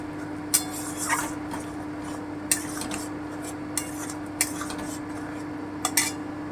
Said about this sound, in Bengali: আমি আঁচটা একটু বাড়িয়ে দিচ্ছি মশলাটা একটু ভালো করে কষিয়ে নেবো